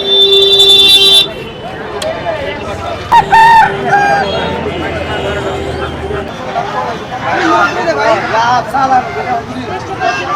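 A rooster crows loudly and close at the start, then people talk nearby over outdoor noise and a passing vehicle at a rural poultry market in Dhaka.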